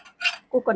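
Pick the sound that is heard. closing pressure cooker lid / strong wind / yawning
closing pressure cooker lid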